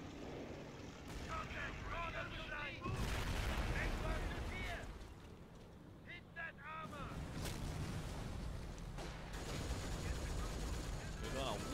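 A German 88 gun fires high-explosive shells in the WWII strategy game Company of Heroes, with heavy booming blasts and rumbling explosions layered over continuous loud battle noise, gunfire and aircraft drone.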